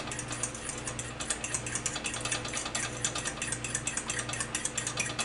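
French toast batter is whisked briskly in a bowl, a fast, steady rhythmic clinking and scraping repeating close up with no talking.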